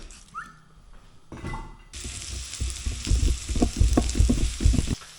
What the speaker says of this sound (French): les oignons, je vais les faire cuire à feu moyen